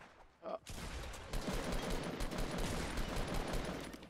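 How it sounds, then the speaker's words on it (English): Rapid automatic gunfire in the Fortnite video game, a dense continuous burst of shots running for several seconds after a brief short sound, fairly quiet overall with no speech. "What are you shooting at?"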